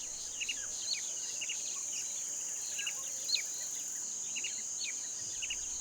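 Cicadas screech incessantly on a hot African savanna as a constant high, shrill drone, with scattered short bird chirps and tweets above it and no other sounds.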